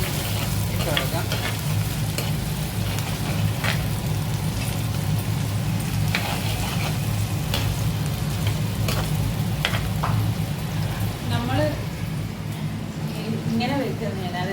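Green chillies and ginger, with shallots, fry and sizzle in hot oil for a roasted-coconut fish curry, a steady crackle broken by scraping stirs, while a person talks over the cooking.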